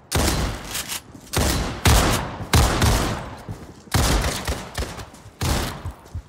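Bursts of enemy gunfire in the Roblox game Criminality, several loud volleys in quick succession with brief gaps between them, the shots crackling and close.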